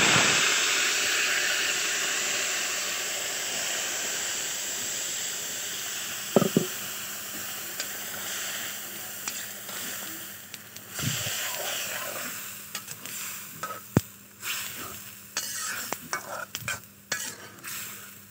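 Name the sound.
Malabar spinach being tempered and stirred in hot pan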